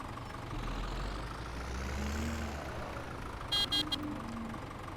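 A tractor engine idles in Farming Simulator 17, a steady low rumbling drone that runs throughout, with a few brief high electronic beeps near the end.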